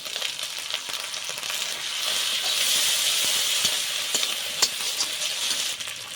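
Chopped tomato hits a pan of frying ginger, garlic and onion with a steady, close, broad sizzle that swells slightly midway, with occasional stirring clicks and no voices.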